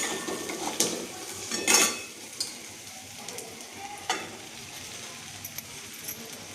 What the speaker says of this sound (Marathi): आता हळद टाकली, चांगलं हलवून घ्यायचं.